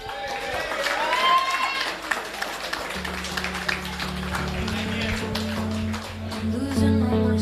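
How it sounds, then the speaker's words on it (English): An audience at a rugby club awards ceremony applauds a prize winner, with scattered clapping and crowd noise mixed with voices and a background music hum. "A round of applause for our next prize winner"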